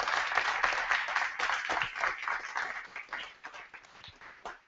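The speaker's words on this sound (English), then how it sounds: "One more round of applause for these guys." An audience at a panel with the Kitchen v. Herbert plaintiffs breaks into applause, brisk and full at first, then thinning and fading toward the end.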